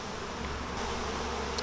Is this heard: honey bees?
yes